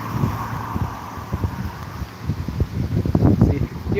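Outdoor breeze in Jamaica gusts against the microphone in uneven low buffeting bursts, fairly close and steady, growing stronger toward the end.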